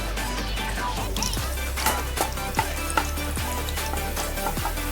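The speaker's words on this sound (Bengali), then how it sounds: "এই তেলের মধ্যেই আমি 4-5টার মতো কাজু বাদাম একটু ভেজে নেব" A handful of cashew nuts fry in hot oil in a pan, giving a continuous crackling sizzle broken by several sharp clicks and taps of stirring, close and moderately loud.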